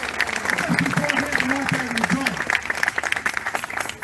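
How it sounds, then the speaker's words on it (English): Applause from a crowd at an outdoor political rally in Sydney fills the space with dense, continuous clapping while someone speaks over it. "give a round of applause."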